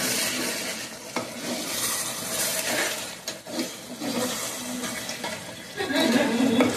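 A pan of dried fish curry simmers and is stirred, a steady bubbling sizzle with scraping spoon strokes throughout, close and fairly loud, with no talking.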